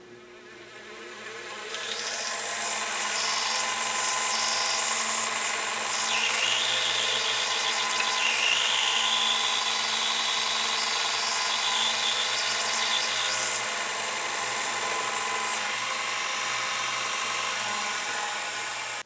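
A belt sander fitted with a fine-grit belt grinds the tip of a golf club shaft, giving a loud, continuous high-pitched whine that starts after a couple of seconds and holds steady to the end, with no voices.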